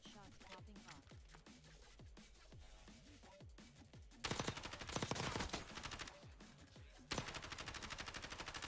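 Distant gunfire in a shooter video game: bursts of rapid automatic shots and scattered single cracks, growing louder and denser partway through, with continuous game noise underneath.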